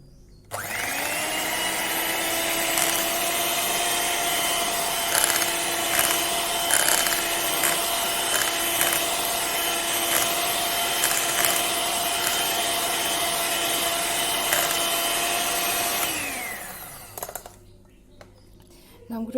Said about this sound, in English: We'll be whisking the whole sugar.